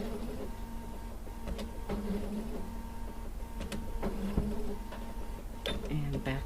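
A sewing machine stitches quilt seams in a steady mechanical whir with needle clatter, close and continuous, with brief clicks and bumps along the way.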